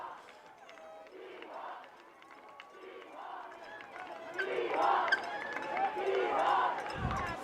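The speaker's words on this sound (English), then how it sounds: "You can hear the crowd chanting Seahawks." During the closing seconds of a high school football game at a stadium, a crowd in the stands chants "Seahawks" in a distant, swelling roar. A commentator talks over the chant.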